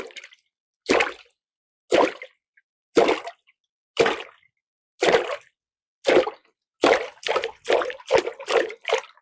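Foley feet wading through shallow water: about a dozen close sloshing splashes, each stand-alone, at a steady walking pace that quickens toward the end.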